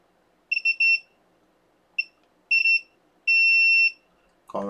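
Short electronic beeps from a multimeter continuity test on a shorted diode on a computer motherboard, heard in several quick bursts and one longer steady tone, close and clear with no talking.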